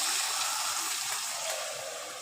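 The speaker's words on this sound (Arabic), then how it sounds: "هننزل بقى بميه سخنه" Hot water poured into a pot of salted rice for a bean-and-rice dish, a steady close splashing rush that holds throughout and eases off slightly at the end.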